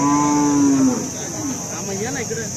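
A cow at the Alephata cattle market gives one loud, drawn-out moo with a clear tonal pitch, trailing into lower wavering calls against steady market background noise.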